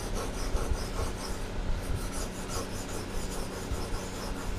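A steel blade rasps back and forth across a sharpening stone held in a field sharpening rig, making a steady, close gritty scraping with a continuous rhythm and no pauses.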